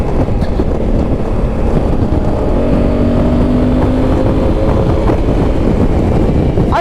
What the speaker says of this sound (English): it's a very windy day here in filthy Cleveland, and I am being blown around quite a bit on this machine